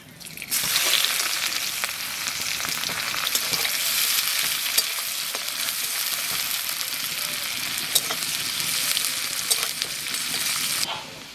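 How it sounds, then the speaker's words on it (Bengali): Onion and cumin fry in hot oil, producing a loud, bright, unbroken sizzle with scattered pops and crackles, close up and steady until it cuts off near the end. "পেঁয়াজ অর্ধেক ভাজা হয়ে গেছে"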